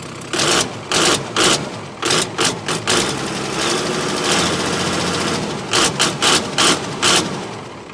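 A 5130 tractor engine runs close by with a loud, chugging mechanical note broken into rhythmic bursts, with a steadier running stretch in the middle.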